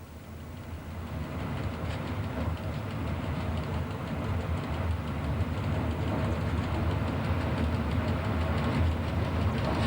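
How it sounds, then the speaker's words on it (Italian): EuroCity 30 Romulus, hauled by an FS class 656 electric locomotive, slowing to a stop at Pordenone station, with a steady low rumble and rolling rail noise from inside the cab throughout, no talk. "Infatti il nostro treno si ferma ad orario a Pordenone."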